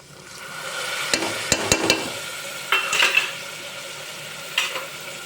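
Cabbage, carrots and potatoes for masala rice sizzle in a pressure cooker pot as a spoon stirs them, giving several clear scraping knocks against the metal over a continuous frying hiss.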